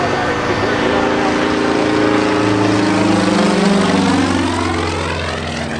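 Twin Tigers aerobatic propeller airplanes fly at the Cleveland National Air Show, their engines droning loudly and continuously as the pitch sweeps up and down during passes, with an announcer talking over the noise.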